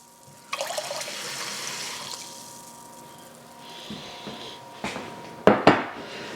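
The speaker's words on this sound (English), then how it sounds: "we're going to add 1 cup of water as well" Water runs and splashes into a container of vinegar for refrigerator pickles, a steady pouring hiss lasting several seconds, ending with a few sharp clunks of a cup or jar being set down nearby.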